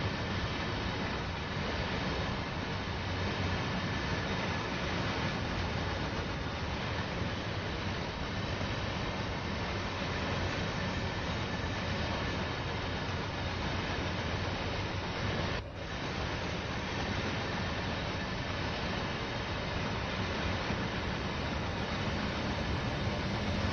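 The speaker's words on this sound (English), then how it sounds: "Because even though these are four engines, it's basically considered one train." An F7 locomotive set with four engines pulls freight as one train, a loud, unbroken rumble of engines and rolling wheels that holds steady from start to finish with no voices.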